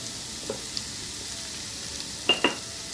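Capsicum and other baby corn gravy ingredients fry in a pan with a faint, steady sizzle, broken near the end by two quick utensil clinks.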